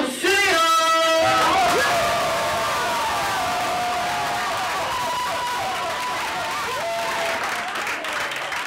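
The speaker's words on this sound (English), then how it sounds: "Give a round of applause to the next man coming up to the open mic." An open-mic audience claps and cheers loudly and continuously, with a brief tonal sound at the start and whoops rising over the sustained applause.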